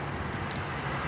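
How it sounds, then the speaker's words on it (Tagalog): Constant broadband rush of wind buffeting the microphone, loud and unbroken for the whole moment. "Ang hangin."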